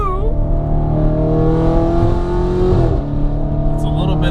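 A naturally aspirated 4.2-liter V8 in an Audi RS5 fitted with downpipes and a mixed aftermarket exhaust revs loudly and close, rising and holding a strong tone before dropping and climbing again, with people talking underneath.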